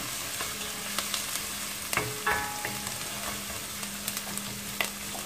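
Shredded cabbage sautéing in a pot for a Turkish cabbage dish, with a steady low sizzle broken by several sharp scraping stirs of a spoon against the pot, close and fairly quiet.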